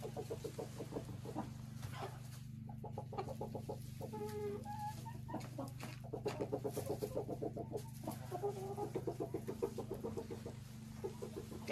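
A rooster calls to a hen to lay eggs in a nest at a country dacha, giving repeated low clucking and throaty calls over a steady rural hum, with hen clucks mixed in close by.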